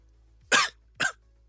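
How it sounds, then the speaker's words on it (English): Two sharp coughs from one person, close and loud, spaced about half a second apart against a quiet indoor background. "keep coughing"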